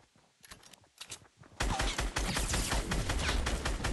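Fortnite gunfire: a few scattered shots, then a dense, loud burst of rapid fire that continues steadily to the end, with no talk.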